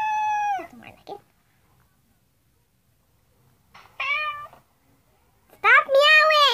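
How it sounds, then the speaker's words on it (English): A kitten meows in three short bursts separated by pauses, the last one louder and more drawn out, heard up close in a quiet room. "Stop meowing!"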